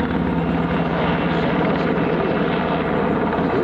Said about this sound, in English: You think that's a Canadian chopper?